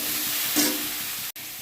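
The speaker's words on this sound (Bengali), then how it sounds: "আর ভেন্ডিটা ছেড়ে দিলাম পেঁয়াজ দিয়ে, পরে আমি হলুদটা দেবো।" Okra and onion sizzle steadily in hot oil in a home kitchen pan, a constant close frying hiss that swells briefly and cuts out for a moment near the end.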